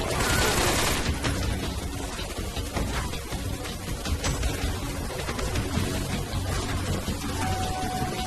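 Rapid gunfire from regular bullets in Metal Gear Solid 3 crackles in a dense, loud burst of overlapping shots, followed by scattered pops and clatter that continue throughout.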